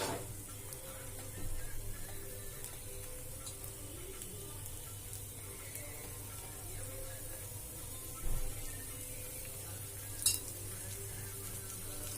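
A dosa fries quietly on a pan after oil is poured over it, giving a soft, steady sizzle with a few faint clinks and brief louder bursts.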